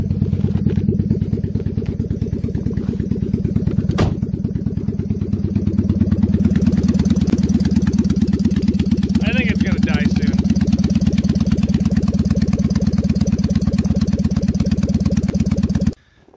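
A Dodge Caliber engine runs rough on only two of its four cylinders, a loud close idle with a rapid uneven pulsing throb and clatter that carries steadily before cutting off abruptly at the end.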